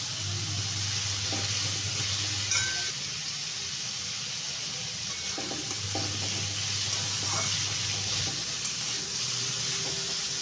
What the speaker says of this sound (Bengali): কি সুন্দর ডাঁটাগুলো ভাজা ভাজা হচ্ছে, দেখুন।